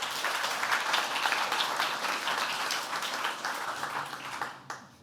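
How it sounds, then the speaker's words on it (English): Audience applause for a speaker at a talk on causal effect estimation, moderately loud dense clapping that holds steady and then fades out over a few seconds. "So give him a big round of applause."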